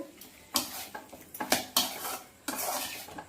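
Andhra chicken with butter is stirred in a pan, with distinct scraping and clanking spoon strokes against the metal, several separate bursts over a faint sizzle, close and moderately loud.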